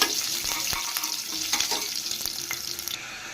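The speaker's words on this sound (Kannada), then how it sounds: "ಇದಕ್ಕೆ ಖಾರಕ್ಕೆ ನಾನು ಎರಡು ಹಸಿಮೆಣಸಿನ್ಕಾಯಿ ಸೇರಿಸ್ತಾ ಇದ್ದೀನಿ ಇದನ್ನ ಚೆನ್ನಾಗಿ ಫ್ರೈ ಮಾಡ್ಕೋಬೇಕು" Mustard seeds, curry leaves and green chillies fry in oil in a pan with a steady close sizzle, punctuated by occasional stirring scrapes and pops.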